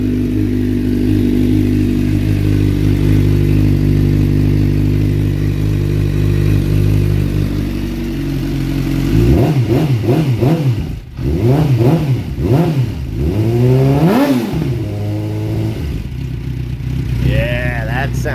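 A 2006 Suzuki GSX-R 600 motorcycle idles with a steady, deep rumble, then its engine is revved repeatedly in sharp, rising and falling bursts, loud and close.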